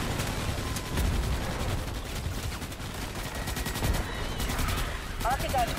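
Gunfire in the video game Starship Troopers: Extermination, rapid bursts of automatic weapon fire crackling almost nonstop, with sharp repeated shots and faint voices in the background of the battle.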